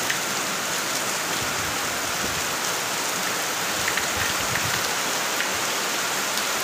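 Heavy rain falls hard and steadily on a Dashain festival day, a thick, continuous close-up roar of drops with scattered sharper splashes and no speech.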